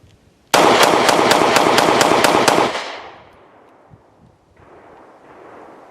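Rapid string of about eight close, loud shots from a Beretta APX A1 Compact pistol fired outdoors, evenly spaced, then a long reverberating decay into quiet ambience.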